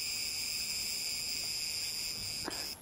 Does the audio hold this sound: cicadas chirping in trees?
yes